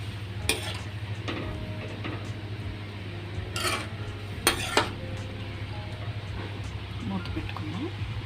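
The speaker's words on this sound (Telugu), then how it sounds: "ఇందులోనే ఒక పావు లీటర్ పాలు పోసి పాలల్లోనే ఉడికించాలి." Beetroot halwa stirred in a pan as it cooks in milk, with scraping and clinking of a spoon against the pan over a steady low background hum and soft bubbling.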